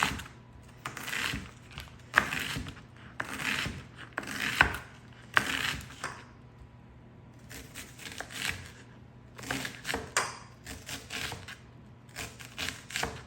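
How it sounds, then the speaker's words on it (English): Knife cutting an onion on a cutting board, a series of sharp, close chopping taps in uneven bursts with brief gaps, no talking. "that's a great way to cut an onion that's pretty easy, pretty efficient"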